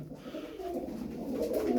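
Pigeons cooing inside a coop holding a flock of fourteen show birds, a steady low murmuring coo that carries through the clip at moderate loudness with no talk.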